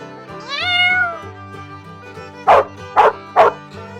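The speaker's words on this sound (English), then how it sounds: "It's a dog." A dog gives three short, sharp barks in quick succession, each clear and close, following a drawn-out cat meow and over a quiet background.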